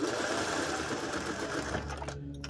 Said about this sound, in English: so I can get it under the presser foot